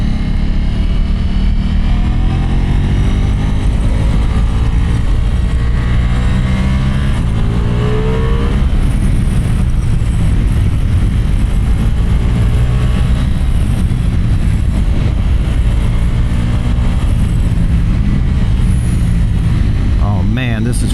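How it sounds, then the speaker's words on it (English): Big trucks rumble past on a road near a BMW motorcycle rider, the engine roar loud and sustained with rising and falling passes under wind noise, and someone talks over it. "these big ass trucks come through here"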